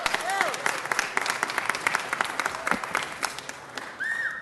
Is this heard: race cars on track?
no